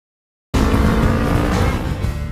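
A motorcycle speeding recklessly past roars in abruptly after a moment of silence, a loud, steady engine rush that holds for about two seconds before easing slightly.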